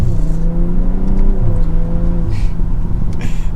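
A 2024 BMW M340i xDrive sedan accelerates from inside the cabin, its engine note climbing through rising harmonics with a gear shift midway, loud and close, with no talking.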